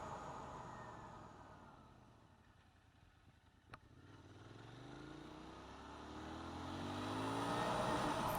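Royal Enfield Continental GT motorcycle engine accelerating through the gears, the tone rising steadily as it revs and pulls, heard from a rider's position with a single brief click midway and the engine note swelling toward the end.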